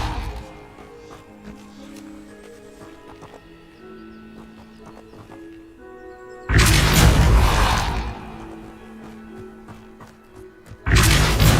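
In Hogwarts Legacy, the Depulso force spell lands with a heavy booming impact that rumbles for over a second. A second thud follows later, both loud over a low musical backdrop.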